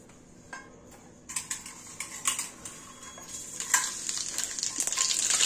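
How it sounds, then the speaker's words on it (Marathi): Mustard seeds, cumin and chilli hit hot oil in a pan, bursting into a bright, crackling sizzle with sharp popping ticks that grows steadily louder and busier, heard close with no talking. "भरपूर यामध्ये मोहरी टाकून घ्यायची, त्यानंतर जिरं, मिरची टाकायची"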